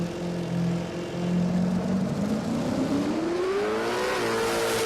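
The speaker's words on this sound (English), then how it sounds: "You can hear the car just wanted to choke up on the start line there" Drag race car in a Falcon Ute at Palmyra Raceway stumbling and choking on the start line, a loud engine drone that holds low, then bogs and rises unevenly in pitch, close and continuous with no talk.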